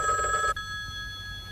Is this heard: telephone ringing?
yes